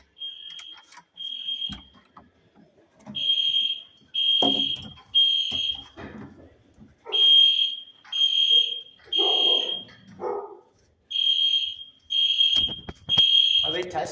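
A hotel room smoke alarm repeatedly blares in loud pulsed tones with brief pauses between bursts, while people talk in the room between and under the beeps.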